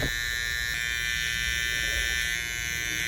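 An electric hair trimmer buzzes steadily while cutting the hair beneath the guideline of a mid fade, a close, constant motor hum with no pauses.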